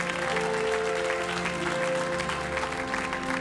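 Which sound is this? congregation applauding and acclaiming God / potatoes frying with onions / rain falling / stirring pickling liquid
congregation applauding and acclaiming God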